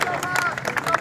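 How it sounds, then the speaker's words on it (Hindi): A crowd at a political public meeting in Nowshera, Jammu and Kashmir, claps to welcome party leaders, a short dense burst of fast clapping and crowd noise, close and loud. "एक जोरदार तालियों के साथ इनका स्वागत किया जाए"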